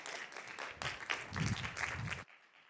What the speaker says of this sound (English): a round of applause for none other than Gabriel Gosselin.